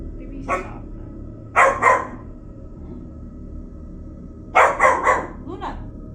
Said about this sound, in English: She's barking at the light.